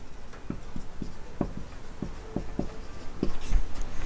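Chalk or marker strokes on a classroom board during a physics lesson on reflection of light, a string of short, evenly paced taps and scrapes close by, with faint room noise and no talk over them.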